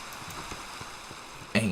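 Rain falls in a Minecraft world running the All the Mods 3 modpack as a soft, steady patter, with a sudden louder burst of sound at the very end.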